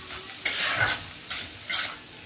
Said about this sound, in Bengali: এবার আমি গ্রেট করা পনির আর কিউব করে রাখা পনিরটাকে দিয়ে এবার একটু ভালো করে হালকা হাতে নাড়তে থাকবো এটাকে আমি